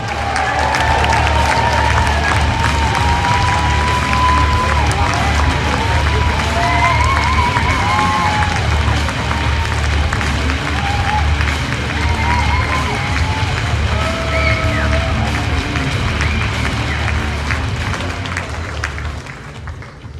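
A large conference crowd at CPAC 2025 applauds and cheers steadily for a speaker taking the stage, dense clapping with scattered whoops and shouts sustained loudly throughout.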